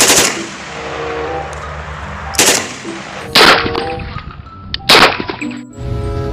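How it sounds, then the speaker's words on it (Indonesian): AK-47 gunfire in a mobile shooting game, a few sharp, loud shots spaced apart with metallic clangs and dings ringing after each, over a low game background hum. "Dan juga tembakan AK-47."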